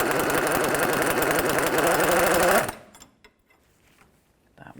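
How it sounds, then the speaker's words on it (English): A power tool buzzes loudly and continuously up close on the steering stabilizer bolt of a 1984–2001 Jeep Cherokee, then cuts out abruptly, leaving near silence with faint handling noises. "I'm just going to go ahead and remove this bolt that comes straight up and through."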